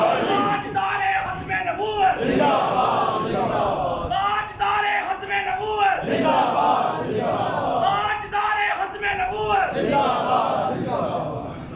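A large crowd at a religious gathering shouts slogans in unison, loud repeated call-and-response bursts that rise and fall in waves across the whole stretch, with no other voice leading.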